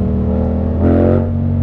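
Yamaha MT-07 motorcycle engine idling with a steady close rumble, then revving briefly before settling back to idle.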